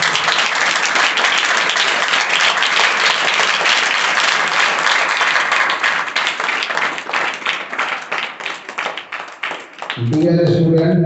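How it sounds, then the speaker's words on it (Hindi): Students give loud, dense applause that carries on for several seconds, then breaks into scattered claps and stops. A voice begins speaking at the very end. "आज की सदन की शुरुआत करते हैं आपकी जोरदार तालियों के साथ"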